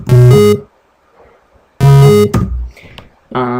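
Bright 8-bit synth notes from a three-oscillator patch of square, saw and sine waves, sounding in short loud bursts separated by silences, each burst a buzzy chiptune phrase.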